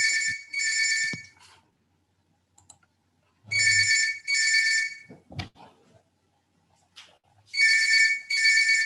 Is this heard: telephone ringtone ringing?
yes